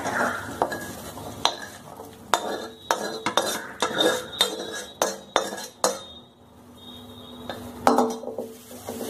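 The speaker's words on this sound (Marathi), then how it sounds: "परतलेल्या भाज्या आपण आता त्यामध्ये घालायचं" Vegetables tipped into a pot and stirred for a Bhogichi Bhaji, with a spoon scraping and clinking against the metal in a brisk, uneven series of knocks, a soft sizzle underneath and a quieter pause near the end.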